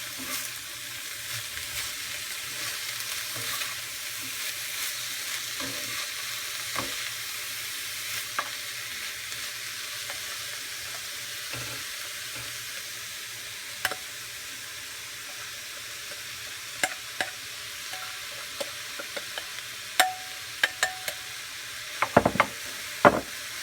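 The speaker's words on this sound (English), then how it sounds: "now it's time to add the cauliflower. Let's mix this." Cauliflower frying in a pan is stirred, giving a steady soft sizzle throughout with occasional scraping clicks and utensil taps that grow more frequent near the end.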